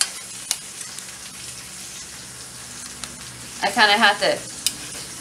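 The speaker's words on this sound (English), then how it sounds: "pork chops, which I have just kind of lightly fried off here" Pork chops fry lightly in a pan, with a low steady sizzle and a brief louder crackling burst near the end, as a person speaks briefly.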